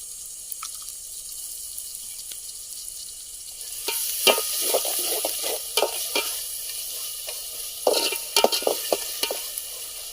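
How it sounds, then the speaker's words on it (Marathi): Onion and tomato frying for a prawn biryani cooked outdoors in a forest, a soft sizzle throughout that grows louder halfway, then sharp clinks and scrapes from stirring in the pan close by, with no voices. "कांदा टोमॅटो भाजला"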